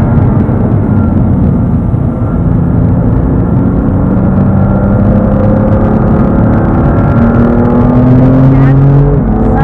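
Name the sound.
car accelerating on the Dreux race circuit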